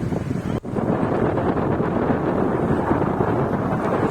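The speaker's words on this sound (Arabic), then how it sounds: "صوت البحر ذات نفسه بيخليك كده يعني عايز تسترخي" Sea at a Brazilian beach makes a steady, dense roar of surf, close and continuous, with a brief dip near the start and no voices.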